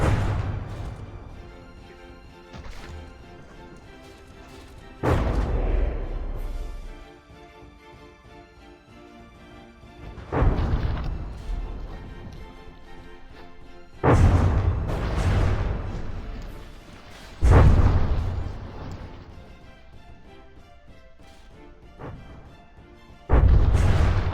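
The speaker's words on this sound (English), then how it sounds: "That turret just gets shot in the back of the head, or I think it detonated inside the superstructure." Heavy turret gunfire and explosions from the naval combat game From the Depths land as deep booming blasts every few seconds, each decaying over a droning low background with no talk.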